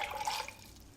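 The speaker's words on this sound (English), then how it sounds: "put 4 ounces of water, this is like filtered water, into a cup." Filtered water pours into a cup, a short faint liquid splash and trickle that fades within a second, with no voices.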